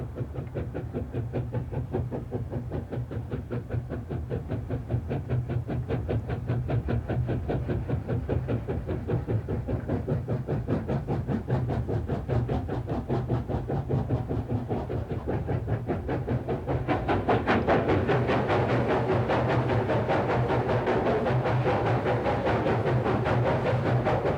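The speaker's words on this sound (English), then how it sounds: "the train passed through one tunnel after another" A train rolls steadily through rough, treeless Tian Shan mountain terrain, its wheels beating a rapid, even clickety-clack over the rails, loud and close throughout, with the roar swelling and brightening sharply as it enters a rock tunnel near the end.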